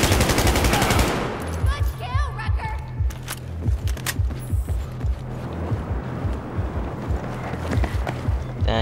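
Rapid automatic gunfire in Battlefield 4, a dense burst of shots opening loud and close, then scattered single and short bursts of fire with intermittent thuds and game effects continuing in the background.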